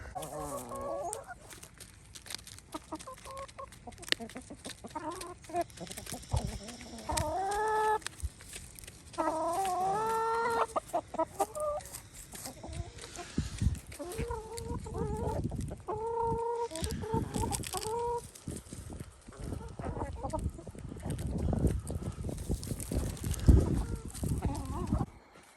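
Chickens cluck and squawk continuously, several birds nearby with rising and falling calls, agitated and fairly loud throughout.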